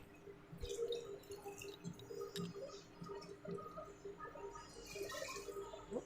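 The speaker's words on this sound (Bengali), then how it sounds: "আমি দু কাপ চাল যেহেতু নিয়েছিলাম সেই জন্য আমি এখানে চার কাপ জল নিচ্ছি" Four cups of water poured into a pot of rice for veg pulao, a faint trickling and dripping pour at low level, running on with small splashes throughout.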